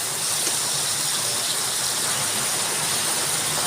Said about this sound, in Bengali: আমার আওয়াজ বৃষ্টির জন্য বোঝা হচ্ছে না।